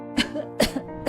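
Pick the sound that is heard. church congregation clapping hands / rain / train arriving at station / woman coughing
woman coughing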